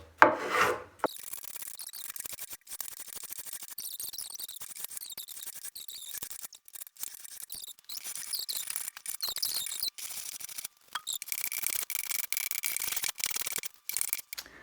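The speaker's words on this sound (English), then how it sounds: "That'll be a lot easier if I reverse my spoke shave and go the opposite direction and push." A spokeshave pushed along a wooden back leg for a dining chair, giving repeated close, dry rasping strokes that rub along the grain with short pauses between passes.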